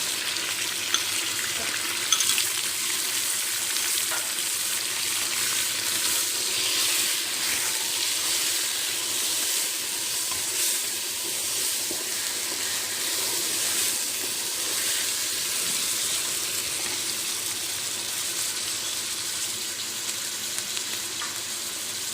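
Ground garlic, kept frozen after grinding, sizzles steadily as it fries in hot oil in a pot while degi aloo gosht is being cooked, a dense, continuous crackle with no talk, close and even throughout.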